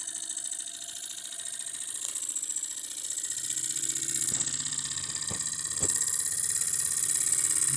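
A Jensen 75 live steam engine with faux brass governor balls and roller ball bearings runs steadily, building pressure before a generator is attached, with a continuous close mechanical hum and a few sharp knocks toward the end.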